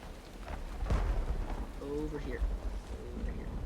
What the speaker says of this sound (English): So this was the rain I was talking about